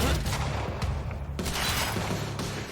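Turrets in the video game Quantum Break fire in dense, overlapping volleys, a loud continuous barrage with booming low end that carries through the whole stretch.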